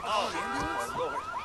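An ambulance siren in the video game Watch Dogs 2 wails in quick rising and falling sweeps, loud and close, over a short burst of game sound.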